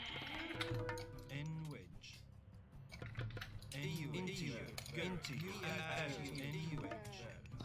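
Goats bleat in a real-time strategy video game match, several short wavering calls over game clatter, partly under a commentator's ongoing talk.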